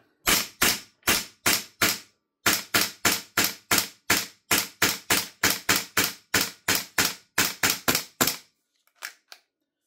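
A Lambda Defence B&T GHM9-G gas blowback airsoft gun fires shot after shot, sharp cracks in a quick, evenly spaced rhythm. A brief pause comes early, a few faint clicks close the sequence, and the shots sound close and loud.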